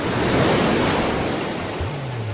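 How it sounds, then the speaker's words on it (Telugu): Ocean waves wash onto a beach in a broad, continuous roar of surf mixed with wind noise, with a brief low tone rising near the end. "దీన్ని బీచ్ అంటారు"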